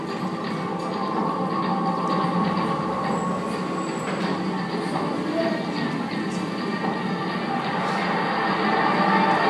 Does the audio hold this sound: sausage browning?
no